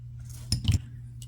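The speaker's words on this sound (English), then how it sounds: "So here I'm going to cut 10 inches of this chain." Cutters snip through a copper necklace chain: a few quick, crisp metallic clips close by, packed into a fraction of a second over a low steady hum.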